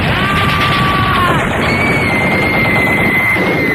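A loud, dense burst of machine gun fire used as a sound effect in a radio comedy sketch about police firing on tourists, rattling continuously with a whistling tone over it and no talking.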